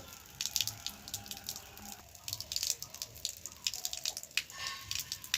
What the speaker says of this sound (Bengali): উপরে ড্রেনটাকে পরিষ্কার করে দিয়েছি এখন জলটা বেশ ভালোভাবেই পড়ছে